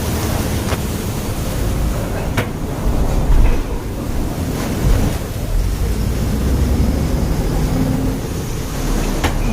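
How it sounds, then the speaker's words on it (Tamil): Heavy rain with strong wind buffeting someone on the road, a dense, roaring wash of noise with gusty surges and blustery microphone rumble, loud and constant with no voices. "மழை நொறுக்குதுண்ணா."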